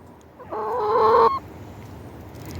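A single drawn-out chicken cluck, loud and close, lasting under a second against quiet outdoor background noise.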